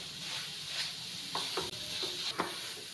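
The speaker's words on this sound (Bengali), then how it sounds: "সুন্দর করে মিশিয়ে নিয়েছি কাজুটাকে" Cashews being stirred into a hot raw-papaya laddu mixture in a pan, a faint sizzle under soft scraping strokes and a few light clinks of the spoon, no speech.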